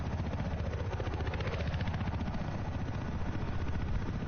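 Helicopter in Battlefield 4 flying toward a base to land, a loud, dense rotor roar with rapid, even chopping pulses, continuous and close for the whole stretch.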